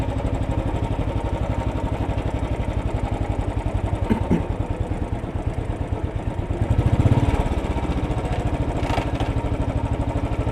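Motorcycle engine idling and puttering steadily in city morning traffic on New York's East Side, stuck in false neutral between second gear and neutral, with a brief rev swell midway and no talk.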